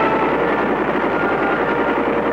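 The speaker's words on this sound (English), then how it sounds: "the heavily armed Huey gunships" Huey gunship helicopters in flight during the Vietnam War, a steady, loud rotor and engine drone that holds constant throughout with no voices.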